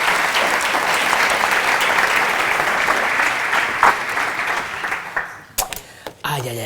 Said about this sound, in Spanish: Vente para acá corriendo y así aplauden, que están deseándolo desde hace un rato